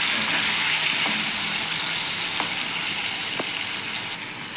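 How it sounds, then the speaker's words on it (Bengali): Paneer fries in mustard oil in a wok with a steady, loud hiss and crackle that holds throughout, with a few soft clicks and scrapes over the sizzle and no voices. "কড়াইয়ে প্রথমে সরষের তেল দিয়ে তাতে নুন দিলাম, হলুদ দিলাম, তারপর পনিরগুলো দিলাম, লাল লাল করে পনিরগুলোকে ভেজে নিলাম"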